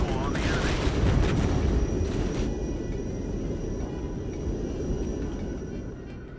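Mortars fire in the Regiments war game as a dense, rumbling barrage of booms and blasts that rolls on continuously, loud at first and gradually settling into steady battlefield thunder.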